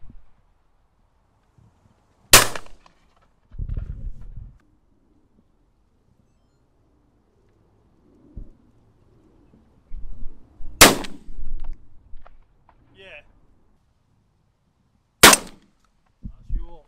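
Three loud, sharp shotgun blasts ring out at wood pigeons over decoys in stormy, windy weather, spaced several seconds apart, with quiet gaps, wind buffeting and brief muttered talk between shots.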